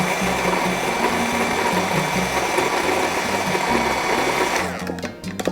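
A blender whirring steadily through a lemon mixture while moved up and down, a continuous motor whine with a pulsing low rhythm that drops off and sputters near the end.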